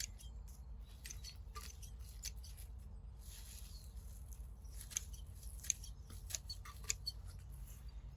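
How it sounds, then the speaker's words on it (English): Mint plant stems snipped back during pruning, a series of faint, quick crisp cuts ticking at irregular intervals over a low steady background hum, with no voices present. "I'm not being particular about how I cut it because it's a mint and it will grow vigorously."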